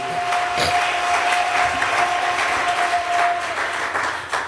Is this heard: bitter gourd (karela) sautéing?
no